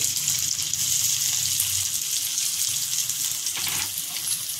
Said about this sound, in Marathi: कांदे फ्राय करून घ्यायचे